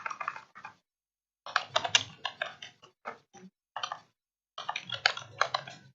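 Typing on a computer keyboard, with quick close clusters of key clicks in several bursts separated by short silent pauses, alone with no talk.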